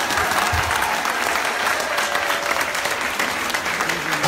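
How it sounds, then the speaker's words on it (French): A church congregation bursts into sustained, dense applause filling the room, loud and even throughout with a crowd murmur beneath. "Est-ce qu'on peut acclamer Jésus?"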